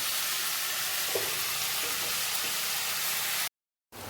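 Onions and cashews roast in a pan on a gas stove, giving a steady, close, loud sizzle with a few faint stirring clicks. It runs alone for about three and a half seconds, then cuts to a brief silence.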